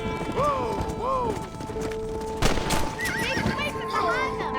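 Horses whinnying repeatedly with rising, wavering calls, hooves clopping underneath and a sharp crash midway, as a herd is driven to pasture in the video game Red Dead Redemption.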